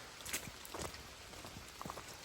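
Soft rain falls, with scattered drops pattering and ticking irregularly on a nearby surface against a quiet, steady hiss.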